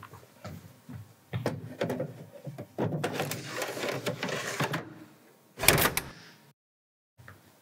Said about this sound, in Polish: Nałożę szufladę na prowadnicę i wsunę do końca tak, by usłyszeć kliknięcie.